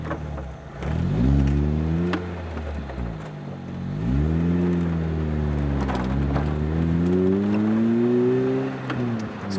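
A Lotus Elise sports car engine revs up and down repeatedly while driving, pitch climbing through gears and dropping between shifts, loud and close, heard from inside.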